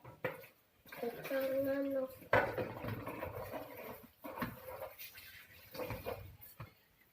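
A child brushes and rinses a bottle, making clattering knocks and soft scrubbing that come and go beneath an adult and someone talking.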